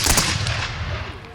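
A loud, close blast from a ceremonial cannon at an outdoor museum cannon rededication, echoing and fading away over about a second.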